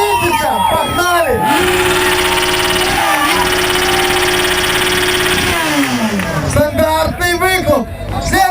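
A 600 cc motorcycle is started and revved at a loud-exhaust contest, its engine roaring steadily for several seconds before dropping away amid crowd chatter and an announcer's voice.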